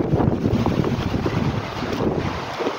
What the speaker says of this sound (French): T'entends le vent sûrement.